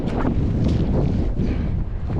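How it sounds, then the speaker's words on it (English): Strong wind gusting across an open bay, roaring and buffeting the microphone in a continuous loud rush with a faint wash of water beneath. "It's quite windy."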